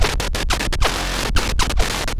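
Heavily processed designed sound smeared with extreme compression artifacts, flickering and stuttering as noise gating and limiting chop it into rapid dropouts and bursts, dense and loud throughout with no voice.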